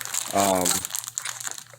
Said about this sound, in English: So the instruction manual is in this nice plastic bag here.